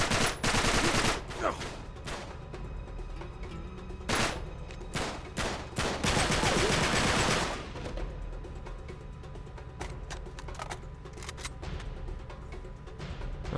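Gunfight in the video game Uncharted 3 at a chateau: loud bursts of automatic gunfire and sharp single shots in clusters, trailing off into quieter ambient sounds and scattered distant shots.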